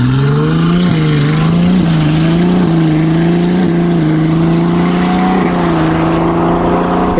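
Ferrari 296 GTB fitted with a Novitec exhaust: loud, close, sustained engine drone with a deep steady tone that dips and rises slightly a few times as the throttle shifts, no talk over it.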